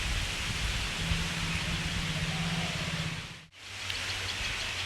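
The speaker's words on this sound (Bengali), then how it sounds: "তো আবার শুরু হয়ে গেল বৃষ্টি" Steady rain falls on a monsoon day, a dense, continuous wash of patter with no voices, briefly dropping out for a moment before the downpour resumes.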